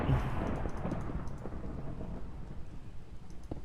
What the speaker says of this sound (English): This rain isn't helping.